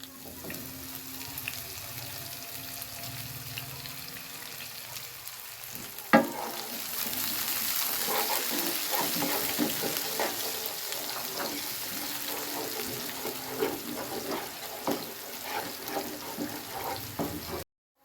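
Chopped onions hit hot oil with cooked cumin in a pan, bursting into a steady hiss and sizzle with stirring scrapes, quiet then louder after the drop, no talk.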